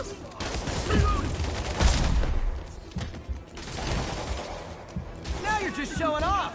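Rapid gunfire bursts in a Spider-Man video game, dense crackling shots under shouted voices and game effects, with a lull midway before more firing.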